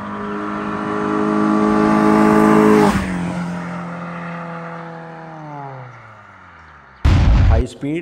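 Honda VTEC car engine held at high revs with a loud, steady multi-toned drone, then the pitch sinks smoothly as the revs drop, ending in a sudden loud burst.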